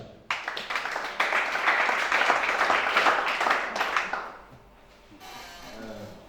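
A church congregation at a Gabonese worship service breaks into sustained applause and cheering, loud and steady for about four seconds before fading into quieter room noise.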